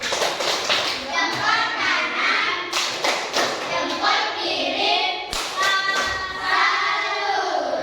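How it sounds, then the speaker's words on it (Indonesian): A classroom of children claps in rhythm for a group of classmates, the sharp hand claps and thumps mixed with lively young voices chanting and talking throughout. "sekarang kita kasih dia tepuk salut"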